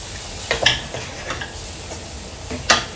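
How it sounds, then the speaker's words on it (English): Green chilies being fried and stirred in a pan for a rajma dish, with a few scraping stir strokes over a faint sizzle, close and moderately loud, no talk. "So before that, just add green chilies. Fry a little bit more."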